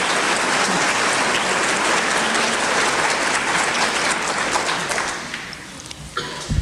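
A large lecture audience gives loud, sustained applause to welcome authors Margaret Atwood and Marilyn French, dense steady clapping that tapers off near the end with a few last claps.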